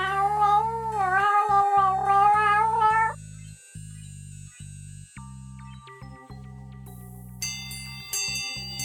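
Cats meow at dinner time, a few drawn-out wavering meows up close, followed by sparse electronic chime tones.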